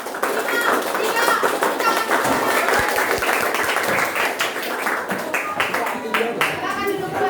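A classroom of children claps along in a counted pattern, quick bursts of hand claps mixed with children's voices and an adult calling out the counts, lively and close throughout.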